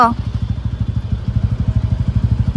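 A warming-up motorcycle engine idles up close with a loud, regular low thumping putter, pulsing steadily throughout.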